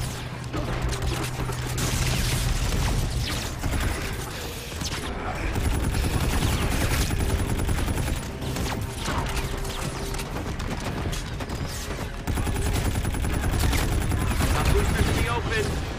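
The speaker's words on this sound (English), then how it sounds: "Let them get closer, then open fire." Sustained automatic gunfire and bursts from a Call of Duty: Infinite Warfare ship assault battle, dense and continuous with heavy low rumble, mixed with combat effects and occasional radio voices.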